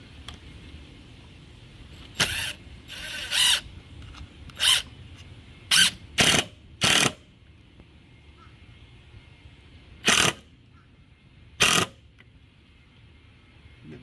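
Short buzzing bursts of a power screwdriver drive a screw into a wooden faux window shutter, about nine brief whirs spaced irregularly with quiet pauses between, close and distinct.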